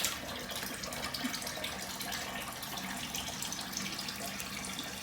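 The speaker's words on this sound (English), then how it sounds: "Drain my sink here." Water running and gurgling steadily down a bathroom sink drain after a cold rinse following a shave, a continuous close wash of splashing and trickling with no talk.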